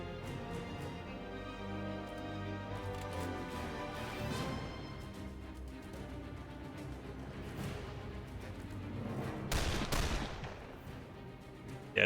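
Gunfire crackles in The Lamplighters League, a run of distant, moderately loud shots and bursts over a continuous game backdrop with no talking.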